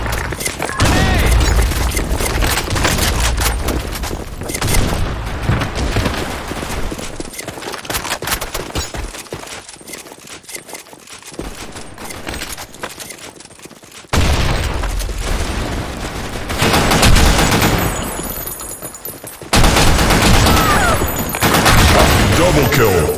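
Rapid gunfire and heavy explosion booms from a video game match in a sandstorm setting, loud and continuous with bursts of fire, abrupt cuts and dense overlapping shots, with voiced game callouts mixed in.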